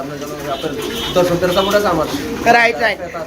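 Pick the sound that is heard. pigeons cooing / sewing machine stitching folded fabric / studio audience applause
pigeons cooing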